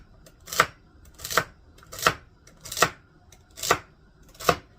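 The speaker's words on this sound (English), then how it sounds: "now we're going to chop up some celery" Celery chopped with a knife on a cutting board, six sharp, evenly spaced thunks about every 0.7 seconds, close and clear against a quiet kitchen.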